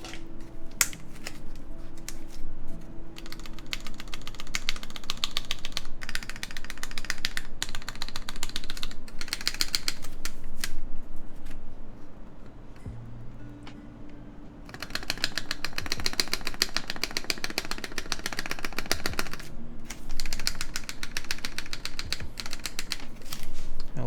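Continuous typing on a TKL mechanical keyboard build with its switches not yet soldered, a dense run of close clicky keystrokes with a brief pause midway and no talking.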